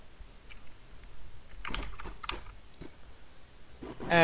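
A password is typed on a computer keyboard: a short run of soft, quiet keystroke clicks, spread irregularly over a few seconds against a hushed background.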